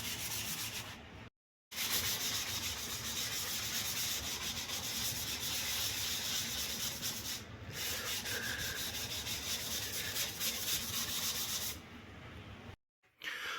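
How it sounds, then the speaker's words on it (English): A sanding block is rubbed over a repaired surface, smoothing it after a coat of filler, in a steady, continuous, close scratchy rasp that runs almost unbroken, with only a few brief pauses. "I'm going to sand it down until it's nice and smooth"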